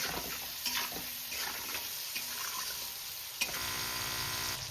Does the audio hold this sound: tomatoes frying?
yes